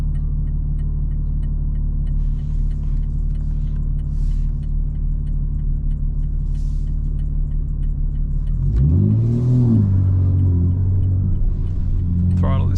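A 900hp 2025 BMW M4 Competition xDrive, not yet warmed up, idles with a steady low drone, then a sharp throttle blip sends the engine revving up and down loudly.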